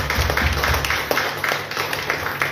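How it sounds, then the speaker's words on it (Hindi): Congregation at a Hindi-language Christian worship service clapping together, a steady rhythmic patter of many hands over a faint low hum, moderately loud and continuous throughout. "तो उस यीशु मसीह के लिए ताली बजाएंगे सभी"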